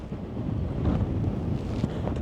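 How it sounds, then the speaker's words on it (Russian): Strong wind buffets the microphone in a continuous low roar, with faint lapping water beneath, beside the Seversky Donets river in Kamensk-Shakhtinsky. "А так, конечно, ветер очень сильный сегодня."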